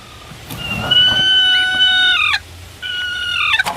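Chickens on a poultry farm call out in a loud, drawn-out, tonal vocalization, with two long sustained calls separated by a brief pause and nearby clucks.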